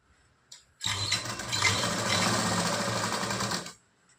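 A sewing machine runs steadily for about three seconds, stitching a half-inch tuck on a blouse with a double line of stitches, its motor hum and needle clatter close and loud with no talk.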